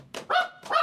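A dog barks twice in quick succession, close and loud, with a short pause between the two sharp barks and no talking.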